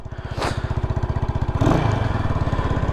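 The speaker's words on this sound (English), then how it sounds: "And then no gas, and kick it through real hard now." A 1981 Yamaha SR500 single-cylinder motorcycle with a freshly rebuilt carburetor is kicked over and catches, settling into a steady, loud, rhythmic thumping idle that swells briefly midway with a short surge.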